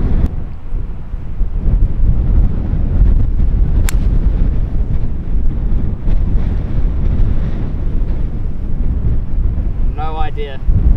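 Strong wind blowing on a golf course, a loud, constant roaring buffet against the microphone that lasts throughout, with a brief voice near the end.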